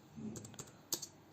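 Keys clatter on a computer keyboard in a short, quiet burst of about half a dozen uneven taps while an SQL query is being typed, heard alone and up close.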